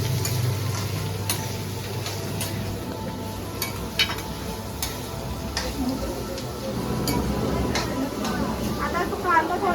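Onion frying and being stirred in a pan, a steady close sizzle with repeated scraping stirs throughout, while a person talks over it.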